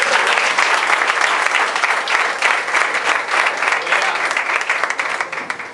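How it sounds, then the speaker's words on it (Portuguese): A church congregation gives loud, sustained applause to welcome the bishop, a thick wash of many hands clapping at once with no break throughout. "Vamos receber o bispo com as palmas"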